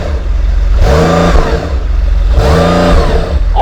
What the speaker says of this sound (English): So, Lewis, give it some revs.